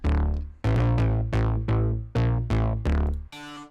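Two layered bass synths play a short pulsing riff together, one deep and one higher, with notes retriggering in a bouncy rhythm, loud and alone.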